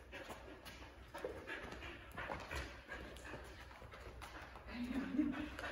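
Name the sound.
dog whimpering and panting during weave pole training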